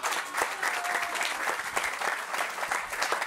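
A crowd at a Campus Party tech event in Mexico applauds, giving a dense, continuous burst of clapping with individual claps popping out, close and lively throughout.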